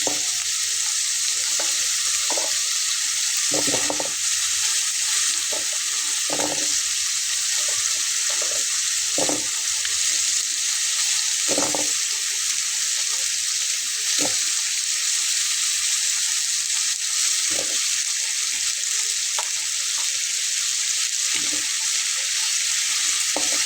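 Taro root (kochur mukhi) frying in a pan, a steady loud sizzle of hot oil running throughout, broken by scattered soft clicks and knocks of stirring.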